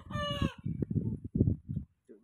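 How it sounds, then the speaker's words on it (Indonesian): A rooster crows loudly and close by at the start, followed by clucking fowl and people chatting over the birds. "Ayamnya berisik ya."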